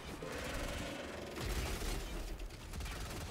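Gunfire in the Warframe video game, a dense burst of rapid mechanical shots and booms that fills the clip, loud and continuous with a heavier impact near the middle, no speech over it.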